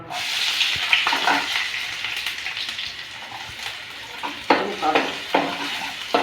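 Onion and cumin sizzle and fry in hot oil, with occasional stirring scrapes and clinks of a utensil against the pan.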